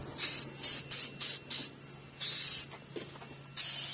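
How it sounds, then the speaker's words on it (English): Short bursts from an aerosol can misting a restoration coating onto a car headlight, several hissing sprays of uneven length separated by brief pauses, close and fairly loud, with a steady low hum underneath. "So it's time to apply the spray."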